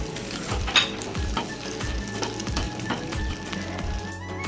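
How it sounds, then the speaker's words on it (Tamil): Cashews and raisins sizzle and crackle in a hot pan, with intermittent scraping and stirring sounds close by. "இதை லைட்டாக பொன்னிறம் வரையும் நல்லா வணக்கி"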